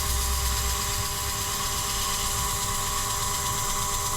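A wood lathe turns steadily at about 500 RPM, giving a constant whirring mechanical hum with faint tonal whine and no change over the few seconds.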